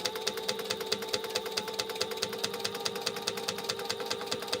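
A sewing machine stitches along a seam line on a clutch bag project, giving a steady, rapid mechanical chatter at an even rhythm, close and moderately loud with no talking.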